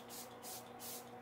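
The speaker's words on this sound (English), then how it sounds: "I'm going to go in with the Believe Beauty setting spray." Believe Beauty setting spray misting in three soft, steady hissing bursts, each lasting roughly a third of a second, close by and quiet, with no voices.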